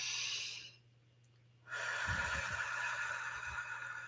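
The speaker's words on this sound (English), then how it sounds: "let's go ahead and take a deep breath" A deep breath, a long steady hiss of air followed by a low rushing exhale, close and fairly quiet over a faint background hum.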